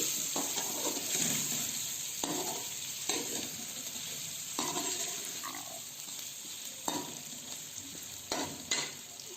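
Meat goes into a pot with browned ginger and garlic, sizzling steadily while a spoon stirs and scrapes in repeated strokes at close range.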